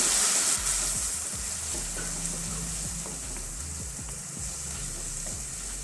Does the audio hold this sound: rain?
no